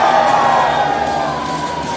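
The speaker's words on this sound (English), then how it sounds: "Well, the crowd's digging that." A crowd cheers and whoops at a snowboard slopestyle event at the Dew Tour at Copper, a loud, sustained roar of many voices that fades slightly toward the end.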